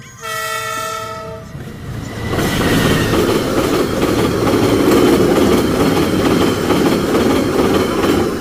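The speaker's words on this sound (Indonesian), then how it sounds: "Sorry bro, abis ada kereta bro" A train horn sounds in stacked steady tones for about two seconds, then the loud, continuous rumble and clatter of rail cars rolling past nearby fills the rest.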